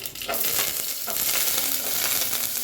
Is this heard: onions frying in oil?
yes